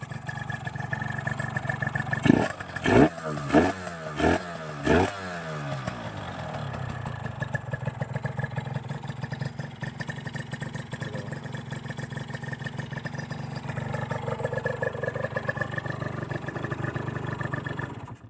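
A used TZR150 motorcycle engine, somewhat loud, idles steadily up close, with a few quick throttle blips near the start, then a continuous rumbling idle.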